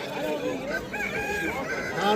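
Roosters crow at the Samarkand bird market, several overlapping drawn-out calls close by amid clucking fowl and a busy crowd, with people talking in the background.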